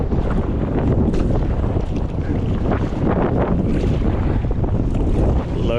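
Strong wind buffets the microphone while sea kayaking in rough waves on an Advanced Elements Airfusion inflatable kayak, a loud, constant roaring rumble that covers everything else.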